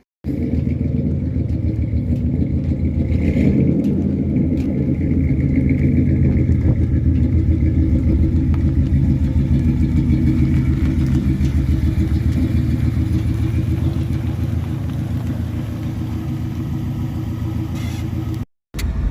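A 1963 Studebaker Champ engine runs steadily with a loud, low, throbbing rumble close by, holding an even idle for nearly twenty seconds before cutting off abruptly.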